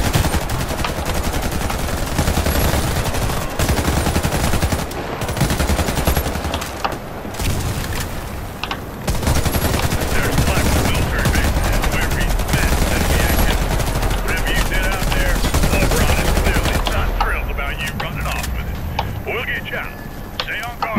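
Gunfire in the shooter game Warface: sustained rapid automatic fire with dense, continuous bursts and brief gaps over about twenty seconds, with a voice talking over parts of it.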